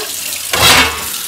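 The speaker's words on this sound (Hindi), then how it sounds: "इसको रख देते हैं पानी डाल के।" Water gushes briefly from a kitchen tap into dishes left to soak, rising loud and hissing for under a second.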